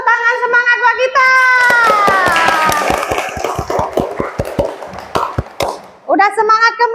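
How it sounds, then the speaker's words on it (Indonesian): Children in a classroom clap their hands in a quick, uneven burst of sharp claps, with kids' voices chanting and talking before and after. "tepuk tangan semangat buat kita"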